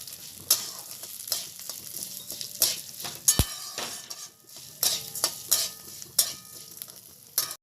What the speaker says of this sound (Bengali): মশলাটা ভাজা ভাজা হয়ে গেছে।